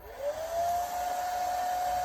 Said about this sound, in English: Use just a regular hair dryer and blow it dry.